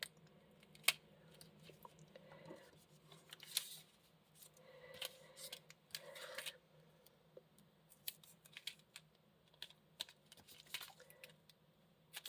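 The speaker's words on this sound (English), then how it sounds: "I don't particularly care about tearing, so I usually use my scissors." Scissors snip through paper while a church shaker card is being crafted, a close, quiet series of crisp, irregular cuts with faint rustling in between.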